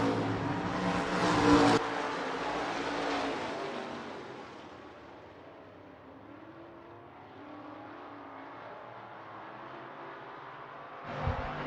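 Stock cars race around Hancock County Speedway, their engines roaring loudly at first, then fading into a distant, droning pack and swelling again as cars approach near the end, with no talk over it.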